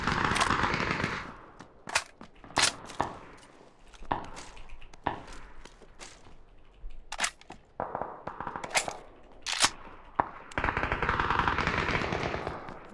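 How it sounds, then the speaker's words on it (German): Wild gunfire in a video game, rapid, irregular bursts of sharp cracks and rattling shots close up, some in quick clusters, others spaced, between stretches of louder noisy ambience. "da wird wild geschossen"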